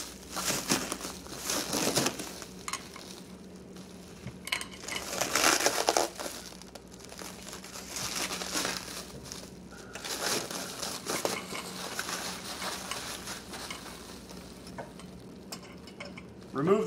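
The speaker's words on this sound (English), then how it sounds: "Remove the foam stabilizer." Foam stabilizer being pulled from a 60-watt LED temp light fixture with a pre-installed bulb: rustling, crinkling bursts of handling, fairly close and moderately loud, coming in several uneven waves with no talk.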